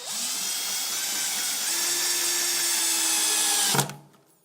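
A power drill drives a screw into the bracket of a VertDesk v3 programmable switch. It gives one steady, close, high whine for nearly four seconds and then stops abruptly.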